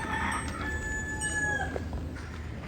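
Free-roaming chickens in Key West, a rooster's crowing calls heard at moderate distance over steady outdoor street ambience, with faint background noise throughout.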